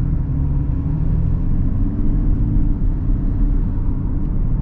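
A Mazda CX-60 XD-Hybrid with a 3.3-litre six-cylinder engine and mild hybrid system accelerates, producing a steady, full, low rumble heard from inside the cabin with no talking.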